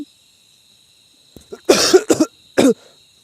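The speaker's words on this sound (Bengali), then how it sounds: "আমার আসছে অনেক কাশি" A young person coughs several times in quick bursts, close and loud, after a brief quiet pause in a playful indoor setting.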